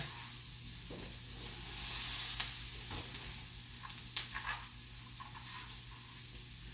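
Kale dropped into a hot pan for a vegetarian dinner dish, sizzling and hissing steadily with occasional stirring clatter and a few sharp utensil knocks against the pan, close and fairly quiet, with no talking.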